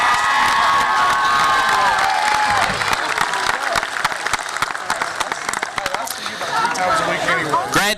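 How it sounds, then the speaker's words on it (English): At a 2019 high school graduation ceremony, a crowd applauds loudly and without pause, mixed with cheering, whoops and shouting, while voices call out over the clapping. "Guys, let's give them all one more round of applause"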